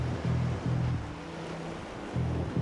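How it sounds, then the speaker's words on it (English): River rapids near the Five Falls section of the Chattooga River give a continuous rushing roar of water, loud and close, with pulsing low surges. "The rapids are bigger and much closer together."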